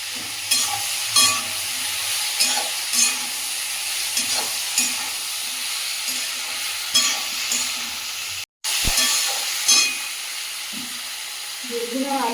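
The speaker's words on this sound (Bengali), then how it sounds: "বেগুন আর আলুটা ভালো করে কষিয়ে নিয়েছি" Eggplant and potato sizzle in a pan with ground coriander and cumin, a steady frying hiss broken by repeated scraping stirs of a utensil, close and fairly loud.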